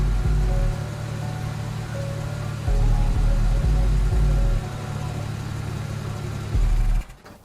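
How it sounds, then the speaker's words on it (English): A car engine runs steadily, a low idling rumble with a few louder surges as it revs, near and alone, then cuts off abruptly near the end. "I did edit this car sound a little bit"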